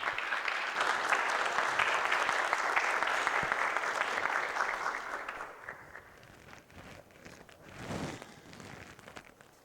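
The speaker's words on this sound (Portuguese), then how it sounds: "Eu queria pedir uma salva de palmas para o professor Mário Novello" A hall audience gives a dense, loud ovation for physicist Professor Mário Novello, thick continuous clapping for about five seconds before it quickly dies away to scattered claps and room noise.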